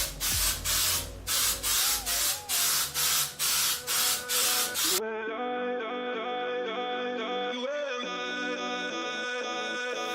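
About nine quick, even bursts of primer surfacer spray hiss in a steady rhythm, then the spraying stops and a tonal, musical hum carries on alone.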